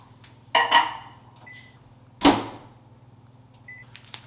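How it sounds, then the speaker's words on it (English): Microwave oven melting a tablespoon of butter, a low steady hum running throughout, with two sharp clunks of the door or buttons, a couple of faint beeps, and a few small knocks. "1 tablespoon of butter in the microwave, 30 seconds."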